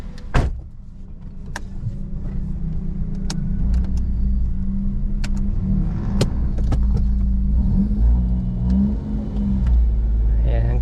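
Suzuki Alto car with a cut exhaust idling and revving in short bursts, a loud, rough low-pitched drone close by, with a door clunk at the start and people talking over it.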